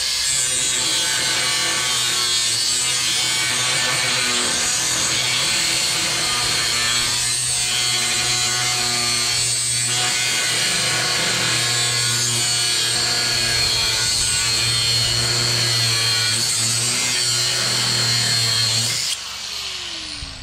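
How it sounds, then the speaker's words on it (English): A hand saw cuts through wood in steady back-and-forth strokes with gentle pressure, a continuous close rasping rhythm running for most of the clip with no talk, then stopping near the end. "By doing that sawing action where I go up a little bit and come back"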